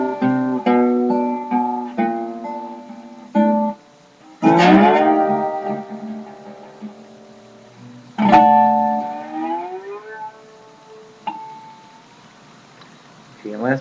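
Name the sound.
slide guitar harmonic with slide up neck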